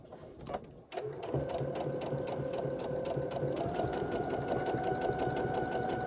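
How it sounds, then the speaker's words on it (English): A sewing machine runs a steady straight stitch along the edge of a fabric face mask, about 1/8 inch in, starting after a few brief clicks and then humming continuously and rhythmically up close without any talk. "I'm just gonna start to sew"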